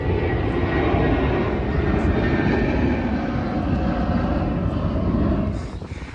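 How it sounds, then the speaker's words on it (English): Airplanes taking off nearby, a loud steady roar of aircraft engines filling the whole stretch, slightly easing at the end. "planes taking off"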